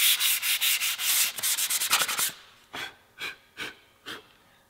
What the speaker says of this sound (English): Just gonna start into the hand sanding here.